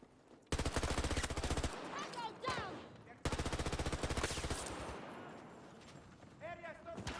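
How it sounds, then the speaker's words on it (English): Two long bursts of rapid P90 submachine gun fire in the video game Battlefield 2042, each a fast rattling stream of shots. Brief voices and game effects come between and after the bursts. "The P90 does shoot a very, very small bullet."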